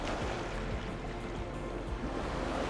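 Ocean waves roll and break steadily, a moderately quiet continuous wash of surf with low rumbling swells and no voices.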